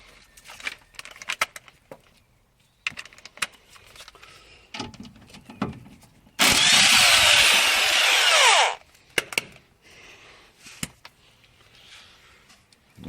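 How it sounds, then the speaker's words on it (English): A power tool spinning off the nylock nut on the bottom of a Mitsubishi FTO track rod end, one loud continuous whirring burst of about two seconds, set among quieter clicks and knocks of tools being handled. "I'm going to undo the nut on the bottom of the track rod end"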